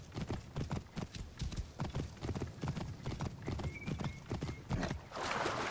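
Horse hooves clip-clop in a steady rhythm through a stretch of Assassin's Creed Origins riding, loud and close, with a brief whinny-like tone and a burst of noise near the end.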